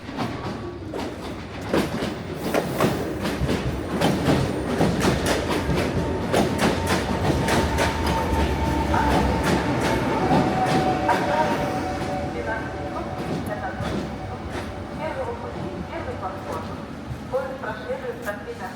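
An Ivolga 3.0 electric commuter train in Moscow rolls steadily along the track, its wheels clicking over rail joints with a continuous rumble, close and fairly loud, with voices talking over it.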